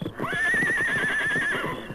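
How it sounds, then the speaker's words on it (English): A saddled horse whinnies loudly and steadily in an old radio Western drama, the neigh rising and wavering for over a second, with hoof clip-clops sounding beneath it. "Yes, I got a horse. Had him all saddled and ready."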